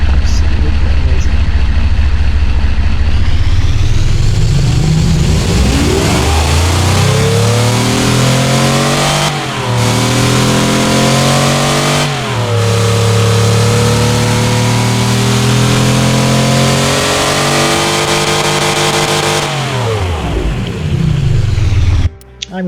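A simulated Stroker V16 engine in the Automation game revs loudly, climbing from idle through sustained high-rpm sweeps with brief dips between pulls, then winding back down to idle.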